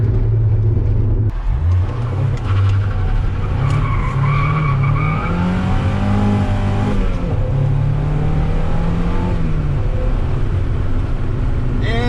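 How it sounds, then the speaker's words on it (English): A Mazda MX-5 Miata driven flat out, its engine loud and straining under full throttle with tire squeal and rising, falling pitch as it accelerates, continuous and close throughout. "That's how you drive a Miata."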